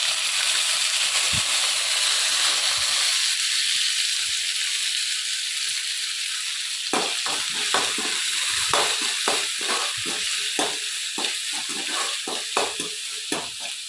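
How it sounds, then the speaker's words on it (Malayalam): Chopped ginger, garlic, curry leaves and chillies fry in a pan: a soft hiss at first, then a run of sharp crackles and spatters close by, with stirring. "ഇനി നേരത്തെ അരിഞ്ഞു വെച്ചേക്കുന്ന ഇഞ്ചിയും വെളുത്തുള്ളിയും കറിവേപ്പിലയും മുളകും എല്ലാം കൂടി ഇട്ട് ഒന്ന് മൂപ്പിച്ചെടുക്കുക"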